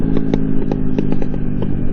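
Motorcycle engine running steadily and loud, with a series of sharp pops and crackles recurring every few tenths of a second over the continuous rumble.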